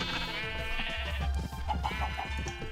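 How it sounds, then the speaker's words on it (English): Sheep bleat in the Minecraft video game, several short wavering calls heard over a steady background of game ambience, moderately quiet. "Okay, I'll breed sheep. I don't want sheep, but I'm breeding the sheep."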